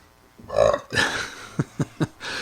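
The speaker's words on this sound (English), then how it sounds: "That was my belch." A person lets out a single deep, loud belch up close, followed by a few short, sharp sounds and light background noise.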